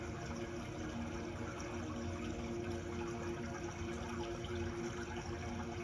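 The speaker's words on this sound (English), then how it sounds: "Listen to the waterfall." Steady broadband rush of falling water from a waterfall, continuous and even without breaks, played as a backdrop for a guided meditation.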